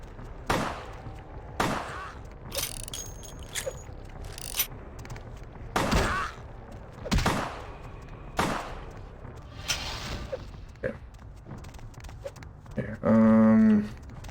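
Gunshots in the game Vampire: The Masquerade - Bloodlines ring out as separate sharp bursts spaced a second or two apart, fairly loud over quiet game ambience, followed by a short buzzing tone near the end.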